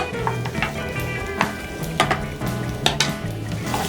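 Radish stir-frying in sesame oil in a pan, a soft steady sizzle broken by repeated scraping and clinking of a utensil against the pan, close and moderately quiet with no talking.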